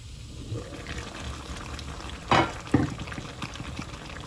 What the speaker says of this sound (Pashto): یو 4 قاشقې اوبه ور اچوم